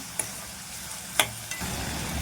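Tomato masala being stirred for dhaba-style lasuni methi in a pan, faint steady sizzling with a few soft scraping clicks of the spoon, no talking.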